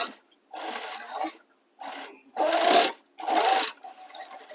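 Sewing machine running long basting stitches down the centre of a blouse lining, several short whirring bursts separated by pauses, close and clear.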